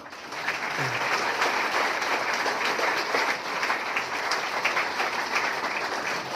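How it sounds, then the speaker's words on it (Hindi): A seminar audience claps hands together in a continuous, rapid wash of applause, fairly loud and sustained for the whole stretch, with no talking over it. "अगर आप बीमार नहीं पड़ना चाहते तो ताली बजा लीजिए, बजा लीजिए।"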